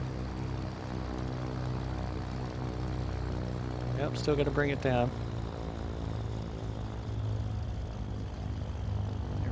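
A Cessna 414 twin piston-engine aircraft idles on the ground, its left engine just started and throttled slightly high. A steady, loud, close engine drone runs throughout, with a person speaking briefly over it.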